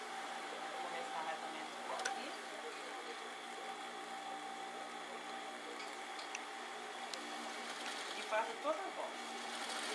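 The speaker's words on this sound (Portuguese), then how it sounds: "vou pregar uma tira aqui, né, tipo um viés, para arremate aqui" A sewing machine runs steadily up close, whirring as it stitches a bias strip onto a ruffled rug, with a few brief clicks and someone speaking softly over it.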